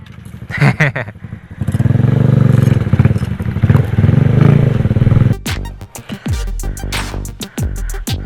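A motorcycle with a damaged front brake runs nearby for wheelie practice, its engine droning steadily for several seconds before giving way to scattered clattering and knocking sounds.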